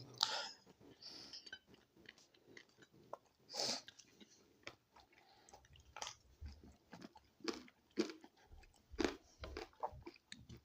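Close, crisp crunching and chewing of snack food in a cheap cheat-meal setting, with repeated irregular bites and munches spread across the clip and no talking.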